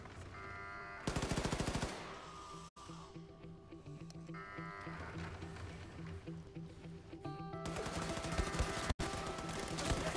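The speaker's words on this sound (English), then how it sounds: "I'm getting shot at" Rapid bursts of video game gunfire, with loud fast volleys of shots interrupted by sharp cuts and quieter stretches of action in between.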